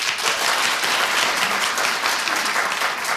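A studio audience claps steadily for a few seconds, a dense, even wash of applause close to the microphone.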